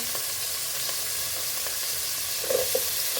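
Onion, garlic, potato and khesari dal fry together in a pan with a steady, close sizzle, broken by stirring scrapes and a couple of louder clatters near the end.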